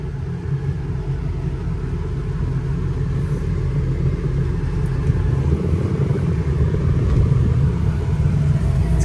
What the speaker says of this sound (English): it drives like nice and smooth for a Super Duty because it's stock.